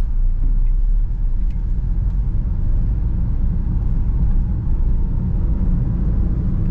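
Inside a moving car, a steady low engine rumble and road noise hold throughout as the clutch is let out in second gear, fairly loud and close with no distinct rise or shifts.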